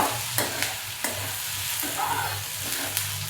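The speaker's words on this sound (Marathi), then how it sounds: "झाकण काढते हलवून घेते" Onions for onion chutney stirred in a sizzling pan, a steady fry hiss under repeated scraping strokes and light clacks of the spoon, close and alone.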